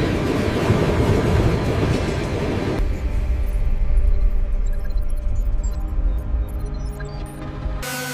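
A train rolls steadily along the rails with a continuous rumble and faint clickety-clack, staying loud and close, then the sound cuts off abruptly near the end.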